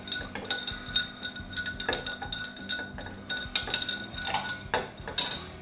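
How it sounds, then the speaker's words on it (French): A spoon stirs sugar into a rum mixture for spiced rum with roasted pineapple, pepper and orange, giving steady, close metallic clinks and taps against the container in an irregular rhythm. "Là je continue de touiller parce qu'il faut vraiment que le sucre soit dissous au maximum."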